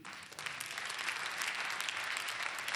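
A church congregation applauds warmly and continuously throughout, a dense even clapping from many hands at moderate loudness.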